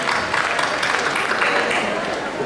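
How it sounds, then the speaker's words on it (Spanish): Workshop participants at a course event break into dense, sustained applause, a continuous wash of clapping filling the hall with a few voices mixed in. "Un aplauso para todas ustedes como participantes especiales de este curso taller."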